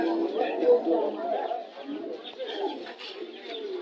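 Soft pigeon coos at a busy pigeon market in Jinjira, Bangladesh, with down-face breed birds nearby, heard close and under people talking throughout.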